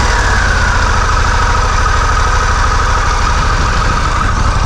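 A Harley-Davidson Pan America Special motorcycle engine runs at a steady, loud idle close by, a continuous rumble that stays even throughout with no speech.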